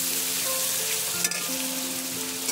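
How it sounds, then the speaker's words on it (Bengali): Onions frying in a pan make a steady, close hiss and crackle for a couple of seconds, with no voices. "পেঁয়াজ লাল লাল করে ভাজা হয়ে গেছে"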